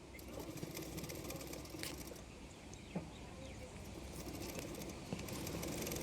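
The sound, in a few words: sewing machine stitching lace onto the neck of a baby blouse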